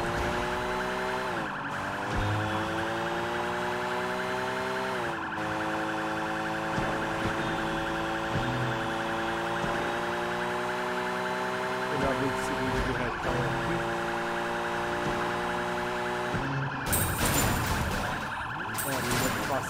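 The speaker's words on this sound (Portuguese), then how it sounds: "O giroflex ligado." A police car siren in the video game Sleeping Dogs: Definitive Edition wails, sweeping up and down continuously, loud and close, with engine rumble beneath and a brief burst of noise near the end.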